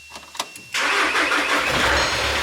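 A VW Caddy 2K engine cranks and catches on jump-starter power after a few faint clicks, then settles into a loud, steady idle close by.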